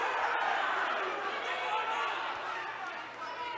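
An unhappy crowd at a boys' high school playoff basketball game between Port Edwards and Wauzeka-Stueben grumbles steadily as a dense, sustained murmur of voices filling the gym, holding fairly loud before easing slightly toward the end.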